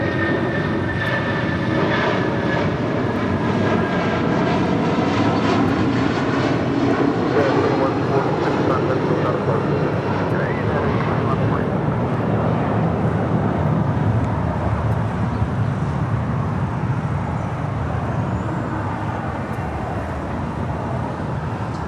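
An airplane takes off from LAX runway 25 right, its engines giving a loud, sustained roar with a shifting whine that holds through the whole stretch, steady and close, with faint talk mixed underneath.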